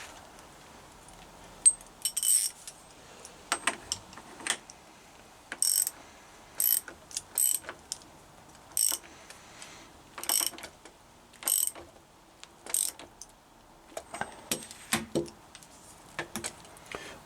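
A ratchet wrench tightens headstock bolts on a Triumph Bonneville T140 motorcycle, making quiet, close clicking bursts in irregular short runs with pauses between strokes.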